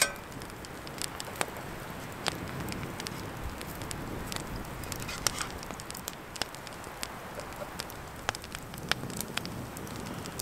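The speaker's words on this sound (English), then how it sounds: "Now it's beginning to, actually rain." Rain starting to fall outdoors on a winter hike near a shelter, soft irregular pattering and tapping of drops on nearby surfaces, scattered and light, with a faint background hiss.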